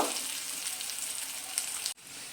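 Raw banana pieces frying crisp in hot oil, a dense steady sizzle close by that cuts off abruptly near the end.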